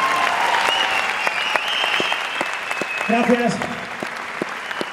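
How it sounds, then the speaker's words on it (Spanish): An audience at the Music Generation final show at PortAventura claps steadily, a dense, sustained applause that fills the space while a voice briefly speaks over it. "el recuerdo de este gran aplauso"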